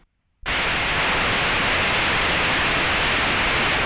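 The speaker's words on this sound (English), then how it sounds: "There's the noise." A harsh, steady hiss of white noise from a Neutral Labs Elmyra2 synthesizer switches on abruptly after a brief silence and continues evenly at loud volume.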